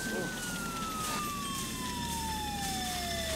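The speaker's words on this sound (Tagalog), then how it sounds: "Yan na sa ambulansya." A siren wails with a slowly falling pitch as the vehicle passes, moderately distant, over a steady background rumble.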